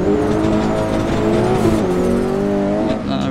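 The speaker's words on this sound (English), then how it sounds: "Got that rev limiter." Tuned Honda Civic Type-R FK8 in the Assetto Corsa racing game, engine screaming loud and steady against the rev limiter with harmonic buzz and a brief dip before climbing back, no talking.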